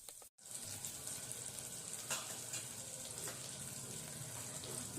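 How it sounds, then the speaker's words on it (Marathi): Onion and garlic sauté in a hot pan for a Maharashtrian dhakku dish, giving a steady close sizzle and frying hiss with faint stirring scrapes and one brief gap near the start. "कांदा लसूण छान परतून झालेला आहे।"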